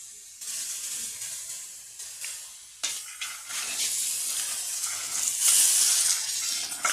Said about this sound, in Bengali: ভালো করে ভাজা হয়ে গেল, এখন দিয়ে দিব ভেজানো সাবু